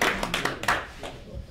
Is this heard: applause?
yes